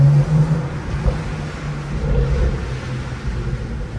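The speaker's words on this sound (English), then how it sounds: "You get a lot of turbo noise." Tuned BMW 335i with an N54 engine on a stage 2+ tune with downpipes and stock mufflers, a loud steady exhaust drone with turbo whoosh rising and falling, heard from nearby.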